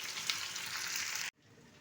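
Catla fish heads frying and being stirred in a pan, a steady soft sizzle that cuts off abruptly partway through, leaving quiet room tone.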